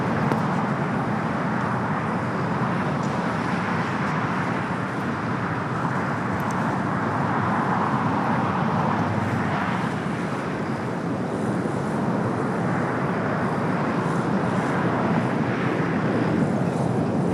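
A United airliner landing on runway 25 left at LAX makes a broad, steady roar of jet engine and rushing air that swells gently and holds loud throughout, heard from outdoors with wind on the microphone.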